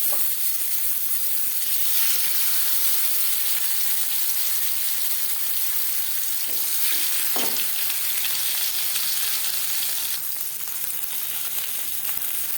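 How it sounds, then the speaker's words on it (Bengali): Foli fish lightly frying in hot refined oil gives a steady, loud, close sizzling hiss that runs without a break, with faint spatter crackles and small utensil sounds. "মাছ আমি এখানে হালকা করে ভেজে নিচ্ছি"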